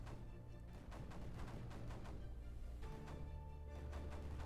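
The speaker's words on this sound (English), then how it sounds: "So these mortars down here are going to continue to fire" Mortars firing in the video game Creeper World 4, a steady run of repeated thudding blasts over a dense, continuous game soundscape, fairly quiet throughout.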